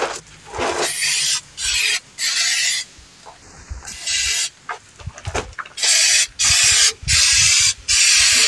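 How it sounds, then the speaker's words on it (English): Repeated bursts of sanding on a car body panel during a cheap bodywork job, primer going on between passes: loud broadband rasping strokes, each lasting around a second, separated by short pauses, close to the listener, with no talking. "I'm also sanding"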